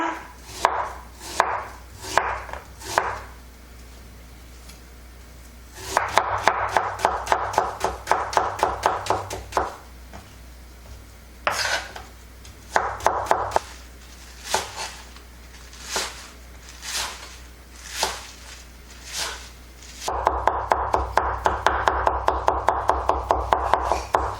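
Pear, green onions and garlic are chopped with a knife for kimchi seasoning, giving bursts of quick rapid board taps alternating with slower single strokes, close and crisp over a steady low hum, no voices.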